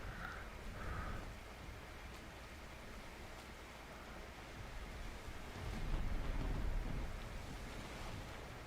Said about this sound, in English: Rain's coming again. Storm's going again.